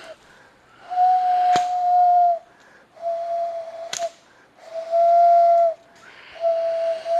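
Owl hoot imitated by a person whistling through cupped hands, repeated four times in steady sustained tones with short gaps, a couple of sharp clicks between, no talking.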